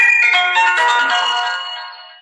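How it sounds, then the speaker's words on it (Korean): A phone ringtone plays as a call is placed during a children's summer Bible school church program: a bright, steady melodic ring tone, fairly loud and alone, fading slightly near the end. "전화를 걸어보겠습니다"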